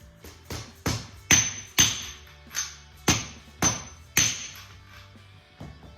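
A hammer strikes a metal socket about eight times in an irregular rhythm while fitting parts on a Ford Escort Mk2, each blow sharp with a short ringing clink, close by with no talking.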